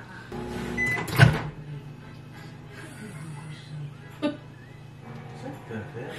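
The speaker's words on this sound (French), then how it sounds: "je vais aller le mettre dans le micro-ondes ben, 1 minute" A microwave oven heating a shaken coffee recipe in a home kitchen, a low steady hum running throughout, with a sharp door clunk near the start and a softer knock later.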